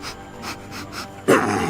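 A dog attacking and eating a puppet: close, rapid panting and snuffling, then a sudden sharp yip or growl near the end.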